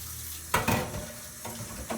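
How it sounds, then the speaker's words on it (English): Italian crab sauce sizzles and bubbles in a hot pan, with a couple of sharp clatters as it's stirred; no voices. "Right here, it's bubbling up."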